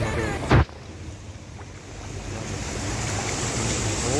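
Floodwater rushing in across a flooded street near a petrol station, a steady broad wash of flowing water with wind buffeting the microphone and a brief thump early on.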